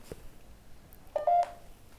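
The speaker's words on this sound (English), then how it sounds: "That'll be the phone, guys." Telephone tones in a reportedly haunted former seminary in Ohio: a soft click, then a short burst of a steady dialing or ring tone near the end, fairly quiet over a faint room background.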